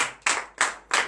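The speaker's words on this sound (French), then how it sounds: "Donnez encore de vive acclamation au Seigneur" A congregation at morning prayer claps in acclamation, three sharp, loud, evenly spaced group claps in a steady rhythm with no talk between them.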